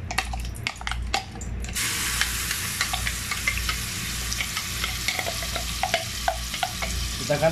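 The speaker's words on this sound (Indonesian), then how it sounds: "Kita akan tumis bumbunya, biarkan sampai harum ya, sampai matang." Blended spices sautéing in a little oil in a heated pot give a steady loud sizzle, with frequent scraping and clinking of a stirring utensil throughout.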